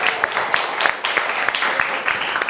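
A studio audience on a televised talk show breaks into applause, a dense, steady crackle of clapping hands with a faint voice mixed in.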